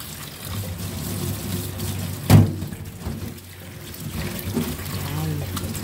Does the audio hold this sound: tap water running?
yes